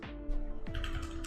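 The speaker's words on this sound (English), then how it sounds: "Type in Loki" Typing on a computer keyboard while setting up a Loki cryptocurrency wallet, a short burst of close key clicks over a steady electronic hum, with no talking.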